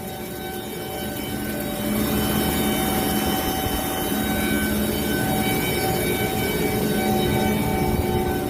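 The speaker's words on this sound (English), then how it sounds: "Got these Carrier air-cooled chillers today. Gonna be doing the PMs on them. These are some screw compressors." Carrier air-cooled chillers with screw compressors run with a loud, continuous mechanical roar and hum that builds slightly early on and then holds steady, with no voices.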